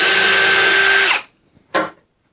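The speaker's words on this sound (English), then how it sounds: "there's nothing like power tools, especially battery-operated ones" A cordless drill whirs loudly for about a second as it drives a screw, then stops, followed by a brief second burst of whirring.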